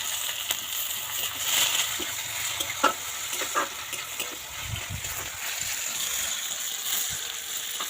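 Chopped onion and whole cumin fry in a pan, giving a steady close sizzle with stirring scrapes and light splatters throughout, no talking.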